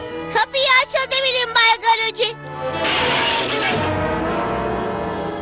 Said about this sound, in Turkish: Camı nasıl kırarsın?